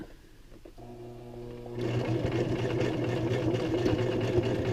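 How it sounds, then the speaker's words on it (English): Domestic sewing machine running steadily, sewing bar tacks across the ties of a fabric accordion-style face mask; a quiet start, then a louder continuous motor hum with rapid needle rattle. "Then we come back to the sewing machine and do a little bar tacking, because then their little ties don't slide out."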